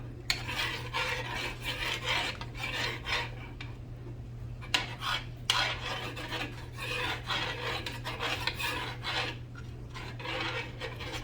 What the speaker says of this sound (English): let me mix that up in there first